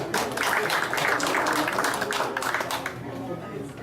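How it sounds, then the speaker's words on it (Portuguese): Audience at a Rotary Club meeting breaks into steady applause, a dense wash of clapping that carries on for a few seconds and then eases off, with murmuring voices mixed in. "Solicito uma salva de palmas ao aniversariante do dia 28"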